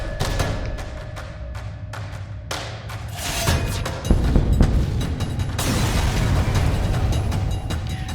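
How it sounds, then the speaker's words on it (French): A spaceship blows apart in the space strategy game FTL, with a series of loud booming blasts and thuds that build into a heavy, sustained rumbling explosion. "Le vaisseau explose, laissant derrière lui des pièces de ferraille fort utiles"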